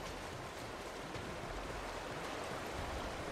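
Steady rushing roar of a waterfall in Borderlands 2, broad continuous white-noise wash heard up close and fairly loud, unbroken, with no voices.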